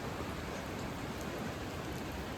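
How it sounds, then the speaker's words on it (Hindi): Heavy rain falls steadily in the mountains near Manali, a dense, even hiss of downpour on surfaces with no let-up, loud and close throughout. "बारिश अभी भी आ रही है तेज़"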